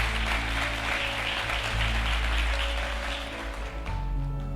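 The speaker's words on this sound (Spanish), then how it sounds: "le damos un fuerte aplauso al Señor" A church congregation gives a strong round of applause to the Lord during a sermon, a broad, sustained patter of many hands clapping over a low sustained organ or keyboard tone, easing off near the end.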